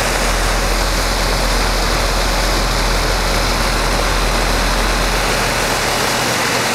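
A 2004 Carrier 3-ton heat pump with a GE fan motor running close by, a loud continuous whoosh of fan air over a deep low hum.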